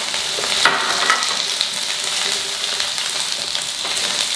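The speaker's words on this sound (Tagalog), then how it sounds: "itutuloy lang natin ang paggisa hanggang sa makita na natin na nagse-separate na yung mga layers ng sibuyas" Ginger and onion sautéing in a pan for a sizzling squid dish, a steady close hiss of frying with occasional light stirring scrapes.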